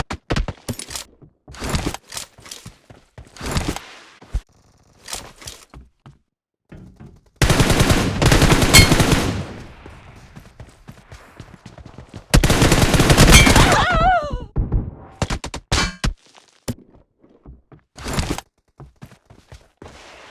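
Bursts of gunfire from a shooting video game, with sustained automatic fire in two long volleys alongside scattered single shots and clicks, fairly loud throughout.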